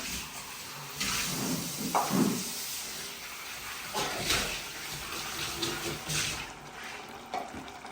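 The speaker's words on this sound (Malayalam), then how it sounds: "നമുക്ക് അപ്പൊ നമ്മുടെ പാത്രങ്ങളൊക്കെ കഴുകി വെക്കാം" Dishes being washed under a running tap: a steady, moderately close wash of water with scattered clinks and knocks of utensils throughout.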